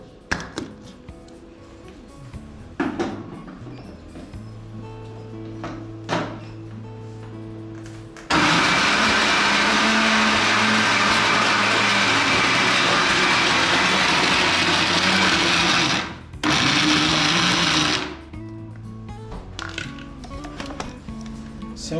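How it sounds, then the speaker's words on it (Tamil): A kitchen mixer grinder grinds chicken in a loud, steady roar that lasts several seconds, breaks briefly and resumes. Quieter clattering and handling noises come before and after it. "நம்ம இதை மிக்சியில் அரைக்கும் போது அந்த சிக்கன் ஃபிங்கரோட ஷேப்பு இது எல்லாமே கொண்டு வர முடியும்."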